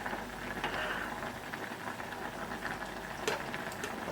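Poaching liquor with white vinegar for homemade ramen eggs simmers in a pot, a steady close bubbling hiss with scattered soft pops and a few sharper clicks throughout, no talk.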